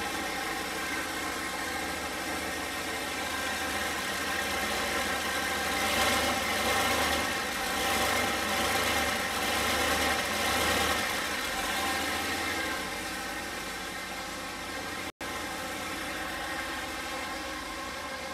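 A 408 LS engine fitted with 100 lb per hour fuel injectors idles steadily after starting, a close, continuous low rumble with a slight vibrating throb that holds for the whole stretch without anyone talking.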